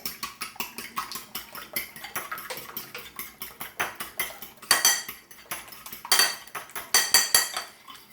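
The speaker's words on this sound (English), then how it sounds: "I'm going to stir it up." A metal spoon stirs a bread pudding mixture with butter in a bowl, tapping and scraping the sides in a quick, uneven rhythm of clinks, with a few louder knocks.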